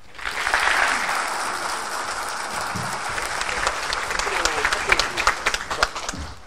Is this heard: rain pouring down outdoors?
no